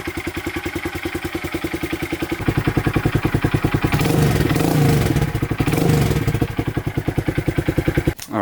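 A 2023 Honda Grom motorcycle with its exhaust baffle in, running up close with a steady rapid idle thump, then swelling through several short revs before settling back to idle.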